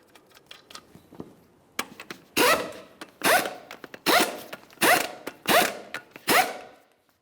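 Six 19mm lug nuts being snugged onto the front wheel of a 2002-2009 Chevrolet Trailblazer, heard as a quiet lead-in of light ticks followed by a steady series of short, sharp ratcheting bursts, close by.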